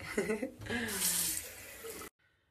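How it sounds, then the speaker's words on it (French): Water runs from a tap as a steady, fairly loud hiss for about a second and a half, then cuts off abruptly, with some faint voice-like tones just before it starts. "Je vais boire au robinet."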